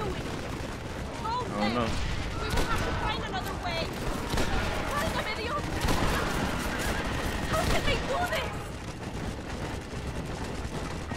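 Rifle gunfire in Red Dead Redemption, a steady barrage of overlapping shots amid game noise, with people talking over it throughout.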